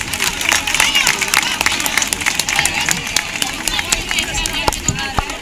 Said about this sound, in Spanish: Un aplauso, por favor, para ellas.